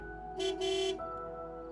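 A car horn honks twice outside a house, a short toot then a longer blast, moderately loud over a steady low hum.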